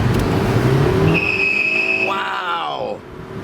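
A 2013 Volkswagen Eos accelerates hard as its front tires break loose and the engine revs toward redline. A high, steady tire squeal rides over the climbing engine note, which rises steeply and then drops away.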